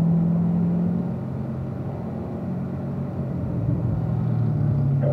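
A car engine on a race track hums as a steady, moderately loud low drone whose pitch shifts slightly, heard alone without talk.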